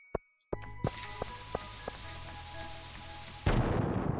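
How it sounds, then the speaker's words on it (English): A bomb in the Stardew Valley video game starts with a sharp pop, then a run of steady ticking thumps over a low hum, and ends in a loud, close, booming blast. "I just hit myself with a grenade. Or a bomb."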